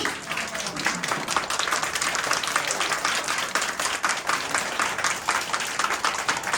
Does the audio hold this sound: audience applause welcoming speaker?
yes